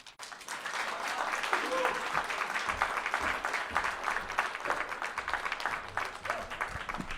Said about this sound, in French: On applaudit chaleureusement Corinne Sauvé qui nous présentait une magnif